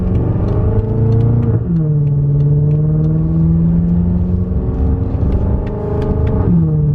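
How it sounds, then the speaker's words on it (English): A BMW F10 M5 driving on town streets, a loud, close, steady engine drone whose pitch climbs during acceleration, dropping sharply at each gear change before rising again, with no talking. "let's just drive around a bit and see if it changes depending on the streets we go to"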